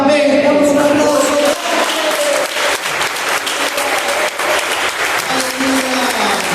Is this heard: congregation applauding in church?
yes